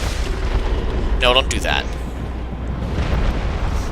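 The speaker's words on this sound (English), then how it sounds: "that attack that you saw him do, where he swings out and then there's an explosion" A Dark Souls boss swings out and sets off an explosion: a deep rumbling boom with a brief ringing, swept tone layered over steady battle noise, while someone talks over it.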